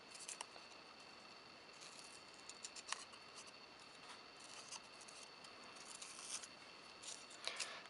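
Scissors snipping snowflake shapes from blue paper, soft close crisp cuts in irregular bursts at low level, with faint paper rustle and no talking.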